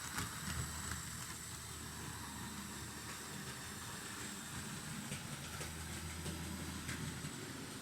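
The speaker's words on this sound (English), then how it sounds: "Very satisfying clickety-clack sound there." An HO scale DB E69 electric locomotive pulls coaches along model track, producing a soft steady rolling rumble with faint repeated clickety-clack over rail joints, heard fairly close and alone.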